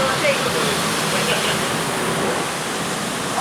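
Automated bus washer at SBST's Seletar Depot spraying water over a bus from inside, a loud, steady, unbroken rush of hissing spray that fills the whole stretch without pause.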